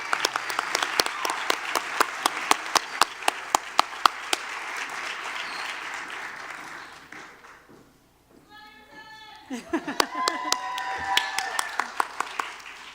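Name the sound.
audience applause for award nominees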